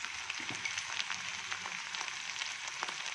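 Steady, even sizzling of food frying in a pan while cooking Karnataka-style mango gojju and chitranna, a dense constant crackle with scattered small pops and no talk.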